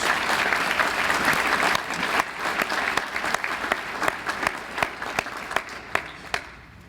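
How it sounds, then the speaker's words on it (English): Sustained audience applause at a nonprofit's annual meeting fills the room, then thins into scattered individual claps that fade out toward the end. "Please join me in a round of applause for our Bay Future Board of Directors."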